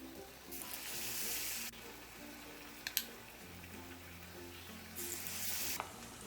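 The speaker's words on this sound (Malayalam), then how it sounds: "എണ്ണ ചൂടായ ശേഷം നമ്മൾ ഫ്ലെയിം കുറച്ചിട്ടിട്ട് വേണം ഇത് ഫ്രൈ ചെയ്തെടുക്കേണ്ടത്." Munthiri kothu, a traditional Kerala snack, frying in hot oil over a lowered flame: a steady close sizzle with bursts of spattering hiss, a pair of sharp ticks partway through, and no talk.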